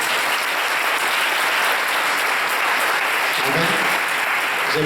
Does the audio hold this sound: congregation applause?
yes